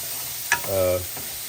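A brief stir of onions frying in a pan in a tiny-house kitchen: a quick scrape of the spoon followed by a short burst of sizzling, close and without speech.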